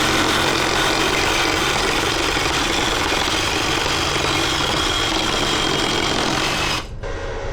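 A power tool cuts a welded part from a 40-year-old Honda motorcycle in half, a loud, close, continuous grinding whine that holds steady, then cuts off abruptly just before the end.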